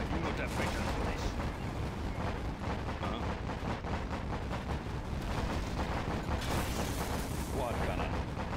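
Quad cannon fire in the Command & Conquer Generals video game: rapid, dense bursts of gunfire running continuously throughout, with sharper blasts in places and game voice lines mixed in.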